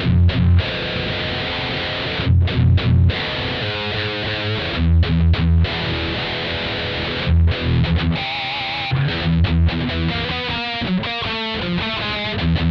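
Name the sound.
electric guitar with metal distortion through Mooer GE100 processor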